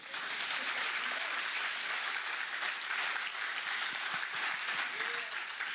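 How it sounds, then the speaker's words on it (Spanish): Sustained applause fills a church congregation during a sermon, steady dense clapping running throughout at an even level, with faint voices mixed in. "dele el aplauso"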